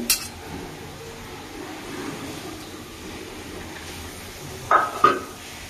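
Fried rohu fish is stirred in a pan of oily curry. A low background simmer is broken near the end by two quick metallic clinks of a utensil against the pan.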